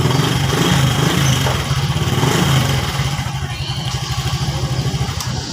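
A Honda XRM 110 motorcycle engine runs close by during electrical troubleshooting, a loud, rapid putter that clatters steadily and eases slightly in the second half.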